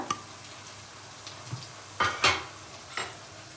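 Spice masala is stirred into yogurt in a bowl during Hyderabadi aloo biryani preparation, with a few soft scrapes and sharper spoon taps over a quiet background.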